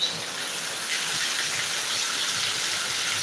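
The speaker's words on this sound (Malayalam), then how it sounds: "കുറെ നേരമായിട്ട് മഴ പെയ്യാണ്" Heavy rain pours in Thiruvananthapuram as a dense, steady hiss, continuous and even throughout with no voices.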